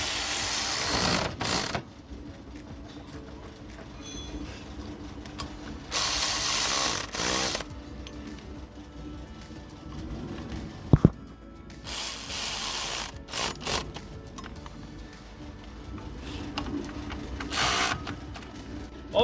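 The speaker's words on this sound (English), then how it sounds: "I'm going to tighten up on them" Bolts are tightened on the Valvematic control unit of a 2009 Toyota Auris, giving intermittent bursts of close ratchet clicking separated by quieter pauses.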